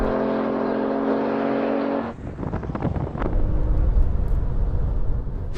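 A Porsche accelerates in a drag race with a loud engine tone that rises, cuts off at a shift, and then roars again as the car builds speed nearby.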